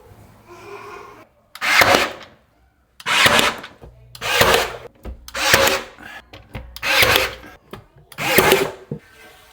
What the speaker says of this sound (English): I cut all these pieces here for the next wall so we can start nailing them